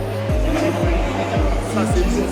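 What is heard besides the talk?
Alpine hypercar race car passing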